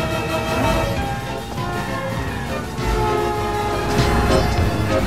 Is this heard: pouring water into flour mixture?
no